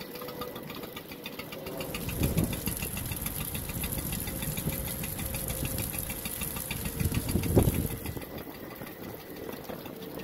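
An outboard motor runs rough and unevenly for about ten seconds, with a steady buzzing drone and a couple of louder knocks and sputters, then dies.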